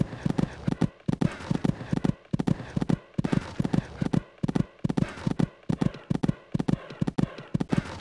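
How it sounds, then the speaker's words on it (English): Horse cantering in the Equestriad 2001 riding game: a steady three-beat clip-clop of hooves repeating across the whole stretch, close and fairly loud, with brief gaps between strides and no talk over it. "This horse just cantering along this part of the course"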